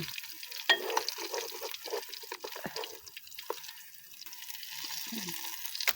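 Fish fries in a clay pan with soft crackling and sizzling, punctuated by occasional clicks and stirring taps, fairly quiet and close, with no talking.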